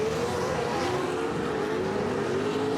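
TORC Pro 2 off-road race trucks racing at Sturgis, a loud, continuous engine roar with a steady rising pitch, close and dense, with no speech over it.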